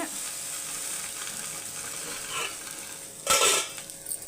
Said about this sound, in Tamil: இப்போ நம்மளுக்கு நல்லா பொரிய ஆரம்பிச்சிருச்சு பட்டு பட்டு பட்டுன்னு